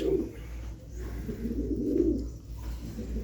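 A red-spotted pigeon with white eyes and a white beak coos in low, rolling murmurs that swell twice, close by and steady, with no talking.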